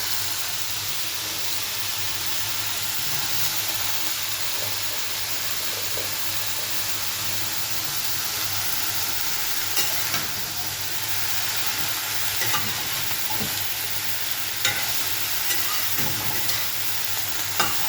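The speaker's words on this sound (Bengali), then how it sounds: "এবার বেশ ভালোভাবে মিশিয়ে দেবো শাপলার সাথে মাছটা" Water lily stems being stir-fried with shrimp in a pan, a continuous close sizzle and hiss with occasional clinks and scrapes of the spatula, no talking.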